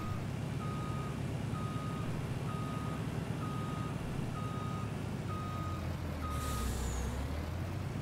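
Heavy truck idling in Farming Simulator 19, with a low rumbling engine, a steady run of regular reversing beeps, and a brief hiss of air brakes releasing near the end.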